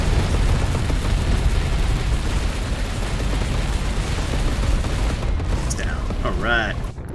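Dense, roaring barrage of rocket fire and explosions from a video game, loud and continuous for several seconds before fading into a few short electronic tones.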